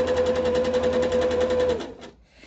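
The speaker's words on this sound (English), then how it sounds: "sewing is obviously faster on the machine" A sewing machine runs steadily for nearly two seconds, stitching the binding onto a hooked rug, with a sustained whirring hum and rapid needle rhythm, then stops abruptly, followed by a faint click and quiet handling.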